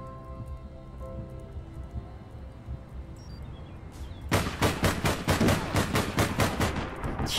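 Rapid automatic gunfire from a .45 AP rifle in the online shooter APB: Reloaded, starting after several quiet seconds of game ambience and continuing as a loud, close burst of repeated shots with a steady rhythm.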